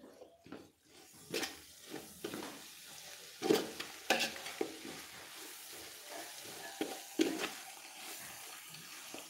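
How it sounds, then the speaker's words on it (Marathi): Turmeric powder being sautéed in hot oil for a chutney, giving a soft continuous sizzle broken by repeated sharp scraping and stirring strokes close by, with no talking. "हळद तेलामध्ये व्यवस्थित अशी परतवून घ्यायची, म्हणजे चटणीला छान असा रंग येतो।"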